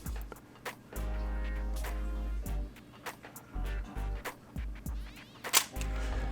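A camera shutter fires repeatedly while the camera is rotated quickly, giving sharp clicks with bursts of handling and rotation noise between them, close and fairly quiet.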